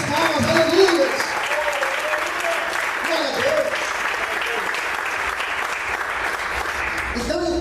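A church congregation claps in sustained, dense applause through the whole stretch, with a preacher's voice rising over it near the start.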